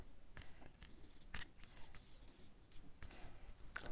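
Chalk or marker scratching out a French verb on a classroom board, short scraping strokes with brief pauses, close and fairly quiet with no talking.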